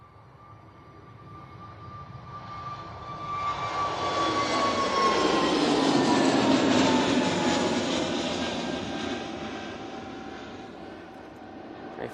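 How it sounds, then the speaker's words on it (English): EasyJet Airbus A320neo taking off at Manchester Airport, jet engine roar swelling from a distant whine to a loud, broad rumble at its peak, then slowly fading as it climbs away. "We now have this EasyJet on the roll."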